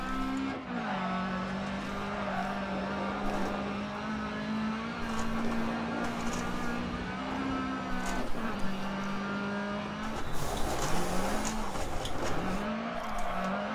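A Mini Classic rally car in Dirt Rally racing at Lydden Hill, England, its engine droning steadily with pitch dips at gear shifts, tire noise, and another car nearby, loud and continuous.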